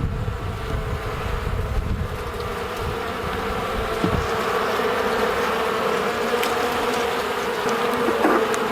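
Honeybees swarming around an open hive during an inspection, a dense continuous buzzing drone close to the microphone, with light wind noise and a few faint knocks.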